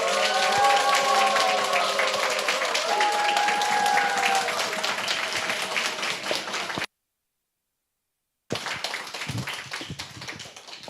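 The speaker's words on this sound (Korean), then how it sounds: "뜨겁게 아주 강의하신 우리 강사님께 박수 한번 다시 한번." A church seminar audience applauds the lecturer with dense, steady clapping that runs several seconds, breaks off into a moment of silence, then resumes more raggedly.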